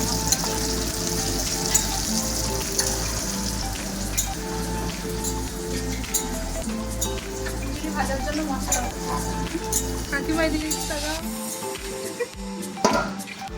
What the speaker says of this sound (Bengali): খিচুড়ি সম্বরা দেওয়ার জন্য ভাজা হচ্ছে